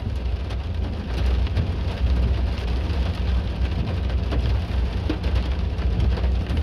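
Small hail and rain patter densely on a car during a storm, a loud, constant drumming on the roof and windshield that intensifies after the first second, with scattered sharper ticks and a low rumble underneath.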